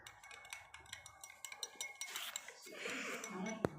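A spoon clinks and scrapes against a glass as two spoonfuls of powder are stirred into water, a quick run of light ringing taps followed by swirling, with one sharp clink near the end.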